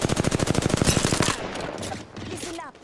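Rapid automatic gunfire from the video game Apex Legends, a fast steady burst of close, loud shots for over a second, then scattered impacts and clatter trailing off.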